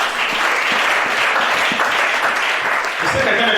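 Audience clapping steadily throughout a church gathering with a Gabonese prophet, a dense continuous patter of many hands at close range, with a few voices mixed in.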